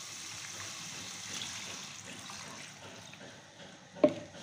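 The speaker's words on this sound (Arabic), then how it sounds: "نضيف توا الماء" Water poured into a pan of Tunisian macaroni sauce with chicken, thyme and herbs: a faint, steady trickle and splash lasting several seconds, ending with a short louder clunk.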